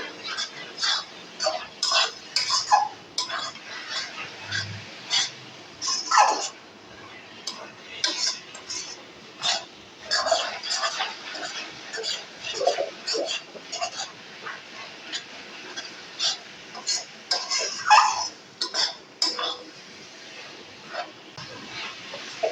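Spoon scraping and clinking steadily against a pan while a carrot laddu mixture with added melon seeds is stirred, a busy run of close metallic taps and scrapes with no talk.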